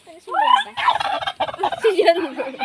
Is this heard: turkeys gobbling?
yes